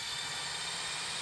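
A jet engine spooling up as a sound effect for an airline summer sale ad, a steady loud broadband roar that holds throughout without any voices.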